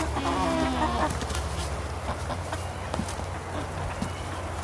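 Chickens cluck and chatter near an electrified farm fence, a steady murmur of fowl calls over a low background hum, fairly close and continuous with no talk.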